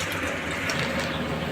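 Tap water runs steadily over rice being rinsed in a bowl for a biryani, a continuous close splashing wash with no voices.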